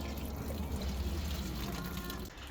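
Coolant draining from a Subaru's cooling system, a faint steady splash and trickle of liquid falling, continuous and close, with little else audible.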